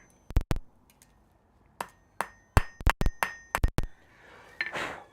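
Hammer blows ring on hot metal in a smithy in irregular bursts, some single strikes and some quick doubles, each with a bright metallic ping, close and fairly loud.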